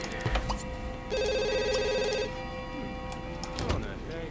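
A telephone in The Sims rings with a steady electronic trill for about a second, under a constant game soundtrack with small clicks.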